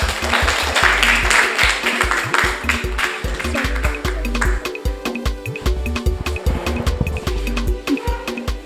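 An audience claps for a child at a school or kids' event, with dense, rapid clapping that fills most of the stretch at a moderate level.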